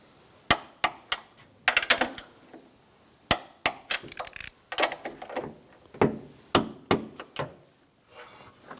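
Metallic clanks and ratchet clicks from tightening strut assembly nuts on a 2004-2009 Toyota Prius sitting on the ground, sharp close impacts in irregular bursts with brief pauses between.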